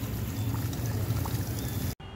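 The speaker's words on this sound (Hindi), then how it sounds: "आप इनको अच्छे से पानी दे दीजिए प्लांट को" Water poured steadily onto the soil of a freshly repotted snake plant (Sansevieria) gives a continuous close trickling wash that cuts off abruptly near the end.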